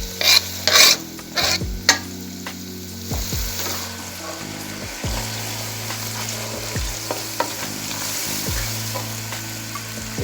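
Green chillies frying and being stirred into masala in hot oil for aloo sabzi made without onion or garlic, a steady close sizzle with scraping spoon strokes and a few louder clatters early on.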